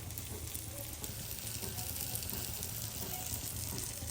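Dosa batter sizzles on a hot pan at home, a steady low crackle and hiss that runs evenly throughout without talk.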